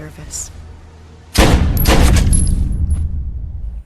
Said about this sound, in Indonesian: Suara tembakan yang terdengar dari dalam sel tempat Rizzo ditahan